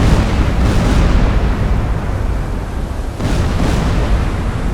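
A torpedo strikes a ship in the submarine game Silent Hunter 4, a loud sustained explosive roar and deep rumble that swells slightly partway through and continues without a break, with no voices over it.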